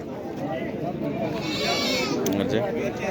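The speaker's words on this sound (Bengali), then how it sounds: "ছাগল" Jamunapari goats bleat repeatedly amid a noisy livestock market crowd, the wavering cries close and overlapping with the chatter.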